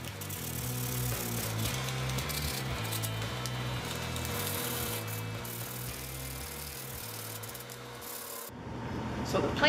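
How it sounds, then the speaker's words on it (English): Rhythmic rasping strokes of sandpaper rubbed back and forth over wood, close and fairly quiet, ending with a brief shuffle. "And then I finished it up with some hand sanding."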